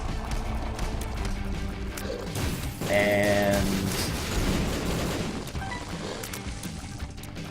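Explosions in the Binding of Isaac video game go off as dense, crashing bursts layered over game music and effects, with a voice talking throughout.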